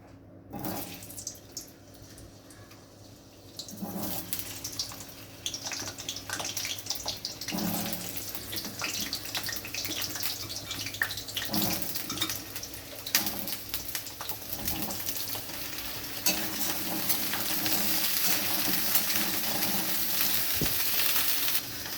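Cauliflower florets and potato pieces fry in hot oil in a kadai, a steady sizzle that starts quietly and swells louder toward the end, with occasional clinks and stirring and no talk.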